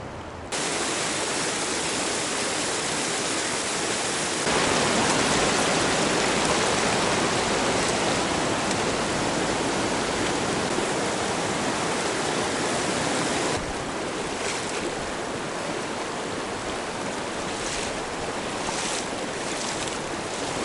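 Steady broadband rush of flowing river current in a trout stream at about freezing temperature, continuous and fairly loud throughout, with no voices, running close by.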